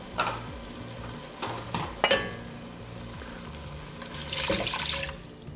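Stroganoff mixture being stirred in a pan, a few soft scrapes and clinks over a low sizzle, with a brief watery swish near the end, quiet and close.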